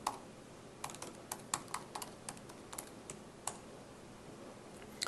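Keys clatter on a computer keyboard in a quiet room, a soft uneven run of individual taps and short bursts, faint and close with no talking.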